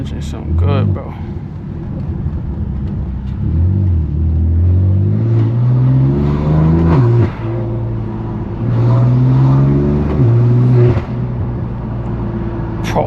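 A BMW F80 M3 Competition with a straight-pipe exhaust revs and accelerates through city streets, its loud, close engine rising and falling in repeated pulls with a deep droning rumble.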